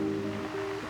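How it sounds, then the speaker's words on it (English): Water pours steadily into a big pot in a backyard for under a second, a continuous close splashing rush. "Fill up the water, the maple tree, in the big pot."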